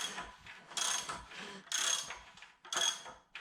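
A partly disassembled Honda K20 engine with a damaged piston is turned over by hand, giving ratcheting clicks in three distinct bursts close to the listener, each pull clattering briefly before a pause.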